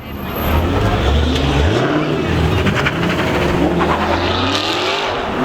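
A Maserati's engine revs hard and loud at a crowded city car meet, the roar climbing and dropping in pitch. Shouting and crowd noise carry beneath it.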